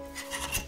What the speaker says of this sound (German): man geht da 2-3 Mal mit dem Cutter da durch